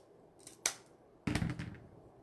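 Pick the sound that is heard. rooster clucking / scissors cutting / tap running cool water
scissors cutting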